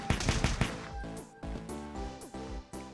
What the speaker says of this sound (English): Also, the gun doesn't sound good.